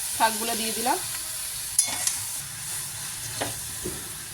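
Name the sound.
fenugreek leaves and eggplant stir-frying in spiced pan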